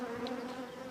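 Honey bees hum steadily at a hive dead from foulbrood, a continuous droning buzz with a faint, close texture lasting the whole short moment.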